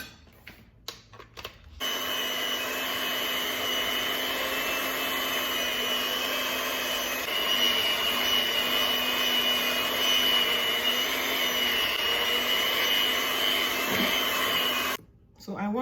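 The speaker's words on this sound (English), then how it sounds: "So I'm going to pour that in. And I'm going to give that a whisk with an electric whisk." An electric whisk beats granulated sugar with butter for shortbread cookies, its motor droning loudly and steadily for a long stretch before cutting off briefly near the end. Short clatters come at the start.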